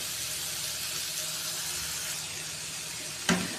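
Food sizzles steadily in a hot pan while being stirred, a continuous close crackle with one brief sharp clatter near the end.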